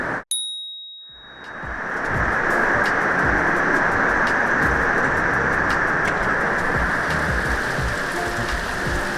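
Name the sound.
heavy rain during storm on houseboat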